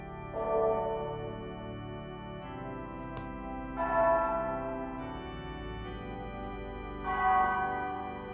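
A big church bell, St. Graham's, tolls in the adventure game Lucy Dreaming with three loud, resonant strikes spaced a few seconds apart, each leaving a long humming decay over steady low background music.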